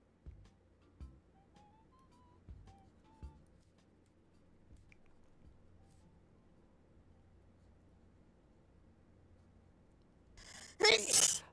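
A single loud, sharp sneeze bursts out near the end after a quiet stretch of soft mouth and handling noises, with a few faint tonal sounds earlier.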